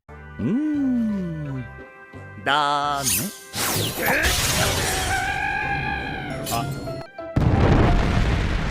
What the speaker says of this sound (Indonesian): Dan bom miliknya pun meledak di udara.